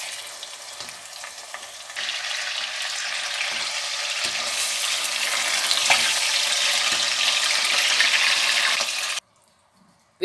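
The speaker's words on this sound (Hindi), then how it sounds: "इसको भूनेंगे।" Chicken keema fries in a pan with a loud, continuous sizzle that grows slightly stronger as it is stirred, then cuts off abruptly near the end, leaving near silence.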